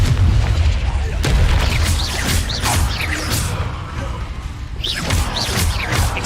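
Confringo fire spell blasts cast in Hogwarts Legacy, landing as a dense run of loud booming bursts over continuous battle noise, with crackling effects and some voice sounds mixed in.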